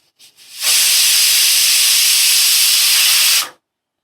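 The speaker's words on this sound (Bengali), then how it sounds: "দেখো একটা সিটি হয়ে গেল" A pressure cooker on the stove lets off a loud, steady hissing blast of steam that lasts about three seconds and then cuts off abruptly, with nothing else audible.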